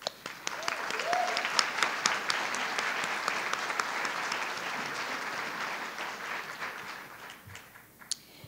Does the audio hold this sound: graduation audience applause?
yes